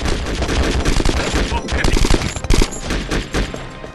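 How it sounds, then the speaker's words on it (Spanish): Bursts of rapid video game gunfire from Conflict: Desert Storm 2 crackle close by, with dense overlapping shots and a few sharper single reports, loud and chaotic. "Escucho tiros por ahí."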